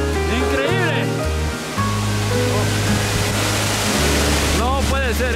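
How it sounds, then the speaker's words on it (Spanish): Loud, steady roar of a mountain waterfall crashing close by, its broadband rush constant throughout, with someone talking over it. "Ya hemos llegado, amigos, a la última cascada."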